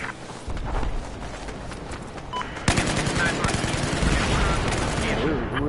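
Battlefield 4 game gunfire rattles in bursts of automatic and single shots, dense and fairly loud, with a sharper volley midway, while a player's voice talks over the action.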